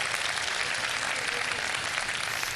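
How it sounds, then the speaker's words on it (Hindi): A studio audience at a televised Ramadan iftar show claps continuously for a contestant, a dense, even wash of applause throughout. "हमारी बहन के लिए बहुत सी तालियां हों"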